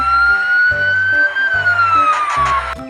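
A toy fire truck's electronic siren wails loudly and close, a single rising and falling tone over a repeating two-note beeping pattern, with no speech.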